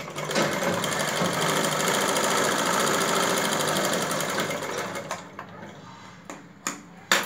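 A sewing machine stitches tucks into a blouse, running in a steady fast whir with rapid needle clatter for about five seconds, then slowing and stopping with a few isolated clicks and knocks, close and fairly quiet.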